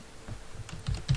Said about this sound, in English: Spacebar.